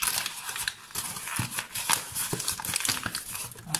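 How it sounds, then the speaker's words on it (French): Crinkling dry, previously crumpled paper being smoothed out and flattened, irregular rustles and crackles up close, continuous throughout. "Je redéfroisse le papier que j'avais laissé"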